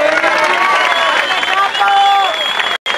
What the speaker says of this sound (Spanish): les pido un fuerte aplauso para la réplica